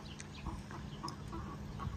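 Chickens and a rooster inside a chicken coop give faint, scattered clucks and short calls, a quiet background of poultry sounds.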